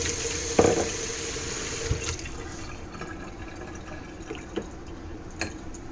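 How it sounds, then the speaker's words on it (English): Warm water running into a bowl, a steady close splashing rush from a tap with a few small drips and clinks, no speech. "So you use a bowl like this and fill it up with some warm water."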